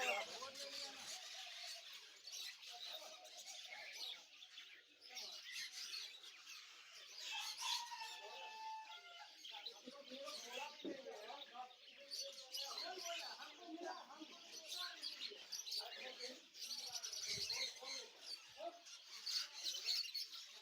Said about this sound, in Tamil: இதாக இருக்குது நம்ம ஊர் பச்சைக்கிளி